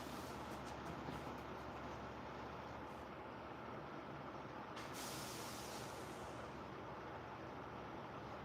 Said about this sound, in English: I have my cesspool truck that pulled up outside to service my home